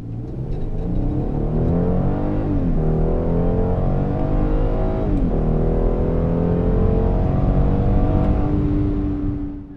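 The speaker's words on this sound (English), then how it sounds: "full throttle launches from a standstill are accompanied by no wheel spin as the wheels take grip" A 2015 Hyundai Genesis 3.8 with all-wheel drive launches from a standstill at full throttle and pulls hard through several upshifts. The engine note climbs, dips at each gear change and climbs again, loud and close, with no voices.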